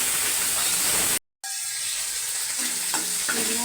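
Prawns hit hot oil seasoned with five-spice and a dried chilli, giving a loud, steady sizzle that cuts out briefly, then returns with a crackling fry and a few clinks.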